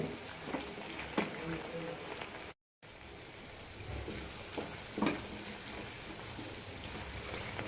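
All-purpose gravy sautéing in a pan, a steady close sizzle and crackle with occasional soft stirring scrapes, continuous throughout with one brief dropout.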